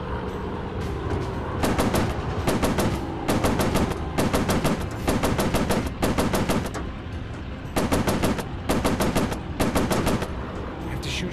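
Machine gun fire from an F7F Tigercat in the VR game War Planes WW II on Meta Quest 3, loud rapid bursts of about a second each separated by short gaps, over a constant engine drone.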